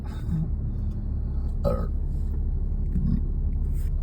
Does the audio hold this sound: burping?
yes